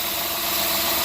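A car engine idles close by during a vacuum leak test, a steady dense mechanical rumble with a constant hiss and slight vibration, too brief to show the revs dropping.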